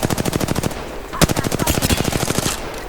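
Rapid automatic weapon fire in the Apex Legends video game, sustained fast bursts of loud, evenly spaced shots with a brief pause and one heavier blast in the middle.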